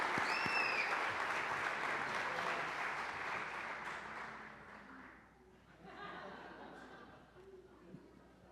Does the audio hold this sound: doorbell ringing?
no